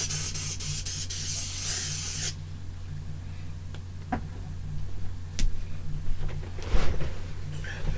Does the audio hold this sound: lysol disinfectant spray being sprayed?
yes